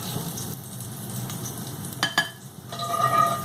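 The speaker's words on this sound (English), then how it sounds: "So I'm going to use a slotted spoon so that I can lift these out and leave most of the oil behind." Fried pieces lifted out of hot oil with a slotted spoon, a steady sizzle of frying under a few sharp metallic clinks and scrapes of the spoon near the end.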